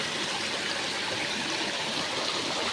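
Water in a creek flowing steadily, a constant broad rushing hiss with a gentle, even texture and no pauses, fairly close and with no voices.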